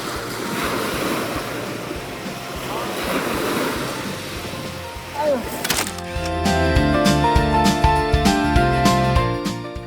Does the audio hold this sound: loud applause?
no